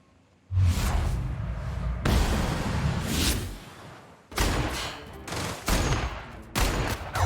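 Gunfire in a sci-fi first-person shooter: several loud bursts of shots with sharp whooshing blasts, separated by brief gaps, with no talk over them.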